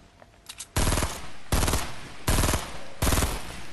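Four loud bursts of rapid automatic gunfire from the Fortnite video game, each lasting about half a second and evenly spaced, close and dominant, with faint clicks before the first burst and no voices.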